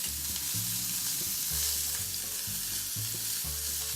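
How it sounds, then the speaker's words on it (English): Lamb loin searing in a hot pan, a loud steady sizzle filling the space, with a low rhythmic scraping of stirring repeating about every half second underneath. "So we're roasting our lamb."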